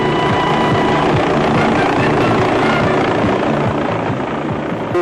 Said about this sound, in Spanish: Los helicópteros también empiezan a llegar, trayendo consigo a más visitantes.